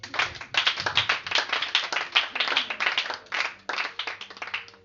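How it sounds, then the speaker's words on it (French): A church congregation claps loudly in dense, rhythmic bursts that run nearly continuously, with a faint voice underneath. "Acclame Jésus."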